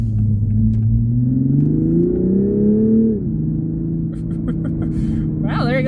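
A 2021 Toyota Supra GR engine revs briefly at quarter throttle, a loud rising drone that climbs in pitch for about three seconds, then drops back to a steady idle hum, with faint voice sounds near the end.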